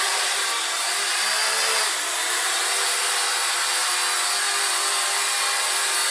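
The small motors of an Eachine E56 foldable drone spin up and hold a steady, buzzing whine close by as it takes off, with no talk.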